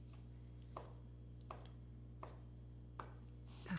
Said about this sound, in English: I'm just gonna chop it to be a better bite size